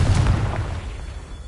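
A Confringo fire-blast spell from Hogwarts Legacy bursts in one loud, booming explosion that rolls off and fades over about a second.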